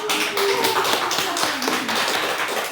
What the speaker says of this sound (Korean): 사경이지만 박수 한번 쳐야 되겠어요